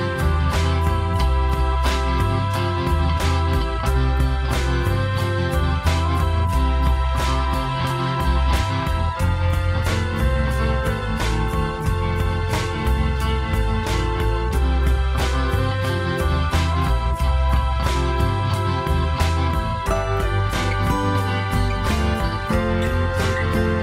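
Three Mellotrons recreating a song, with strings, bassoon and flutes playing a dense, sustained ensemble part that stays steady and full throughout, with no voices.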